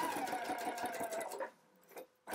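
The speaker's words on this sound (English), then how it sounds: "if you want to just change your stitch length to a basting stitch here" A sewing machine runs a long basting stitch, a fast close whirring hum with rapid needle clatter for about a second and a half, then stops, with a short burst of machine noise again at the end.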